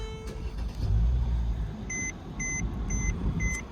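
A 2015 Mercedes-Benz E400 Cabriolet with a bi-turbo 3-liter V6 starts with a deep low rumble that swells and settles into a steady idle, while four short, evenly spaced electronic chimes ring out near the end.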